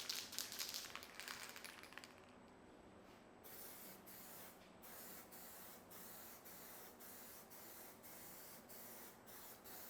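Spray gun applying a coat of epoxy primer onto textured plastic: an opening burst of loud airy hiss, then softer, evenly repeated short spray pulses at a regular rhythm.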